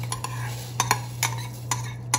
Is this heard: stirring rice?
yes